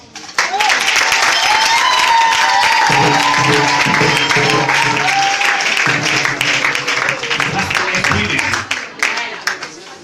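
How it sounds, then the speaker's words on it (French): Congregation applauding a church choir after a sermon, with steady, loud clapping filling the whole stretch while sustained singing or organ-like tones carry on beneath and a voice talks over parts of it. "Applaudissons pour la chorale."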